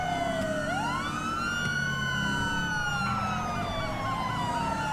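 A police siren in GTA V with the LSPDFR mod sweeps through wailing and yelping patterns, several sirens overlapping over a constant engine and road rumble; loud and steady, no talking.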